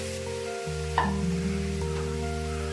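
Cabbage being stirred with turmeric, salt and spices in a frying pan for a cabbage and prawn dish, with a steady sizzle and a scrape of the spatula partway through, under a constant hum.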